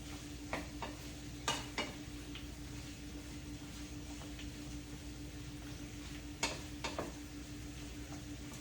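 Ivy gourd pieces frying in a pan for chutney, a quiet, low sizzle with a steady hum beneath and a few sharp scrapes and clicks of a spatula scattered through.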